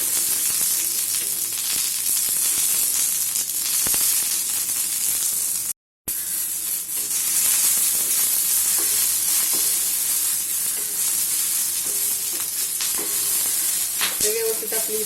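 Green chilies fry in oil in a pan for a spicy fasting-style thecha, giving a loud, steady sizzle and crackle that runs almost without pause, cut off only by a brief dropout midway.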